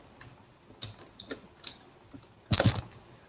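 Fingers tap out scattered keystrokes on a computer keyboard, close and clicky, then finish with a quick dense burst of loud key presses near the end.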